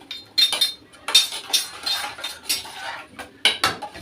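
A metal spoon clinks and scrapes inside a pot of poha as it is stirred, quick bright knocks in uneven bursts up close, ending with a metallic clatter like a lid being set on.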